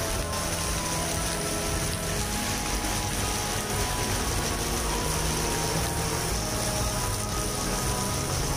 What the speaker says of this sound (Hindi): बारिश हो गई है यहाँ,